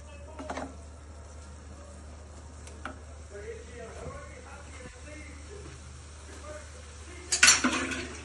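Spoon stirring flat beans and egg frying in a pan, soft scraping and faint sizzle with a few sharper clinks near the end, under a steady low hum.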